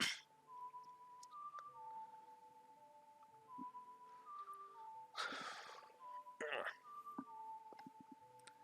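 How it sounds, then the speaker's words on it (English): A short melodic tune is whistled to be played on the ocarina in the video game The Legend of Zelda: Ocarina of Time: clear, steady whistled notes in a stepwise line, broken by a few breathy noises and faint background sounds. "Listen carefully. I will whistle this song."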